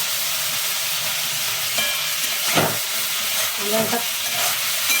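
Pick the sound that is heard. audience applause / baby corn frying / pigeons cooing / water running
baby corn frying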